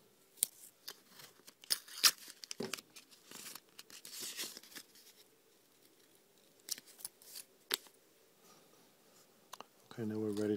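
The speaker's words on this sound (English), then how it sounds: "to protect the guitar's finish, I'm going to install some tape" Masking tape being torn, cut with scissors and pressed onto a Stratocaster-style guitar body to protect its finish, with scattered snips, crinkles and clicks, close and quiet.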